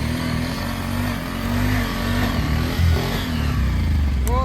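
A motorcycle ridden slowly in a slow bike challenge, its engine idling and puttering at low speed with a steady low hum and slight revs, close by and loud, with no talk over it.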